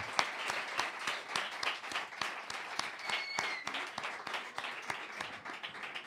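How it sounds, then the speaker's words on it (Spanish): Audience applause on a Spanish talk show, steady dense clapping with sharp individual claps throughout, fairly close and loud, with a brief whistle partway through. "un aplauso a este señor"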